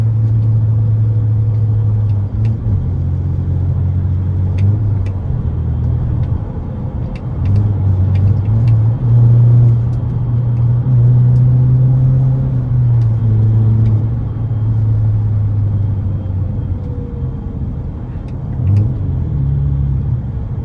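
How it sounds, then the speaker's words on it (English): BMW E93 with a new aftermarket exhaust, heard from inside while driving: a loud, deep engine rumble swelling through repeated pulls and easing off between them, with faint clicks and burbles over roughly twenty seconds. "It pulls, and when I do a little pull, it sounds so good."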